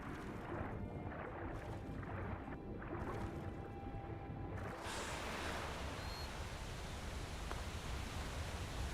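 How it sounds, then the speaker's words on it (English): A waterfall in Skyrim: a steady, broad rushing roar of falling water that swells louder and fuller partway through, then holds constant with no voices. "I really want to check out that waterfall."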